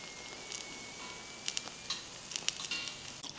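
Hot chicken nuggets still sizzling inside a HAJKA outdoor oven, a soft steady fizz broken by scattered small crackles and pops, close and fairly quiet.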